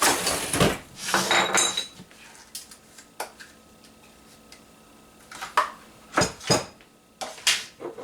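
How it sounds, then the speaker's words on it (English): A metal ice cream scoop works into a tub of ice cream with scraping, knocking and clinking sounds in irregular bursts, some fairly loud and close, separated by quieter pauses. "And then I'm going to take my ice cream scoop here."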